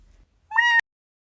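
A cartoon cat with a little bow tie marking, in the animated series The Amazing Digital Circus, gives a single short, bright meow lasting about a third of a second, heard alone after a brief quiet pause.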